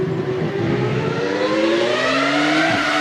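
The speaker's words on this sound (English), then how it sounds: "I'm going to play you a sound clip of a Formula 1 engine now" A modern Formula 1 engine revs up through rising gear pulls, a smooth climbing whine that drops briefly at each shift, loud and continuous.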